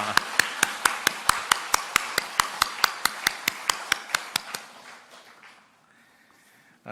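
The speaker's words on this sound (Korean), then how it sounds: "우리 감사의 박수 한번 드리겠습니다" A single person claps evenly and distinctly, close by, at a church remodeling thanksgiving service, about two dozen sharp claps in a steady rhythm that fade out after four and a half seconds, leaving near silence.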